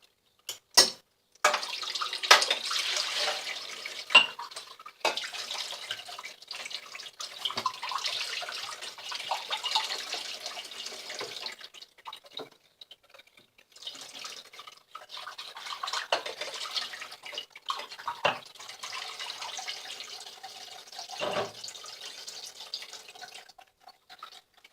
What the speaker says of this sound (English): I'll wash that cup out now.